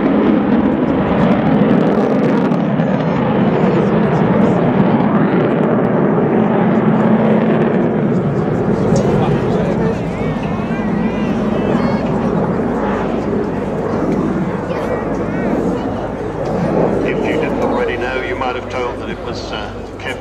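An aircraft flies its display at the 2014 Waddington Air Show with a loud, sustained engine roar throughout, under constant commentary from a man over the public address.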